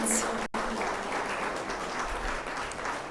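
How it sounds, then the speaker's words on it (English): Continuous applause from a ceremony audience at the opening of a broadcasting union's annual general assembly, a steady moderate wash of clapping with a brief cut near the start. "let's get one more round of applause for Dr. Barnett."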